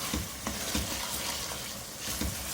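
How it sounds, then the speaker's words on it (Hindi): Minced meat and green chillies frying in a pan, a soft continuous sizzle with periodic scraping stirs, close up and without talk. "हरी मिर्ची डाल के भूनेंगे इसको"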